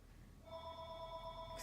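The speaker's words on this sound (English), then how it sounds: "excuse the phone, it's ringing." A telephone rings indoors, giving a steady electronic tone that starts partway through and stays faint and distant.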